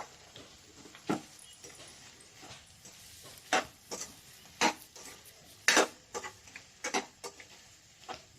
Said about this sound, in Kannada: ಎಲ್ಲ ಚೆನ್ನಾಗಿ ಮಿಕ್ಸ್ ಮಾಡೋಣ